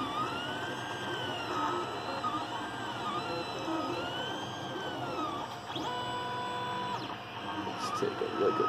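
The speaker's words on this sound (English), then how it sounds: "you can hear the extruder clicking" A 3D printer runs a bed level test print, its extruder giving repeated clicks among sweeping stepper-motor tones, steady and close, with no one speaking.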